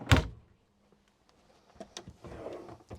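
A large drawer in an Auto-Sleepers Warwick XL motorhome slides open with a short, sharp thud at the start, followed by faint rattles and soft handling noises inside the cabin.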